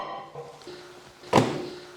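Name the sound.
microwave door closing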